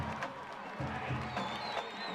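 Crowd noise from a high school football game at The Woodlands, with the home fans roaring steadily through a third-down play, a continuous wash of cheering that holds at an even level throughout.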